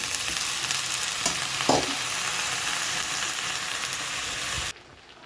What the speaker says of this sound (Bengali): দেখুন বন্ধুরা, আমার মশলা কষা হয়ে গেছে, আমি সবজিগুলো দিয়ে দিলাম।